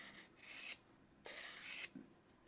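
Workshop scissors blade sharpened on 240 grit abrasive, with two long, close, raspy rubbing strokes separated by brief pauses and a short scrape at the end, quiet and without talk.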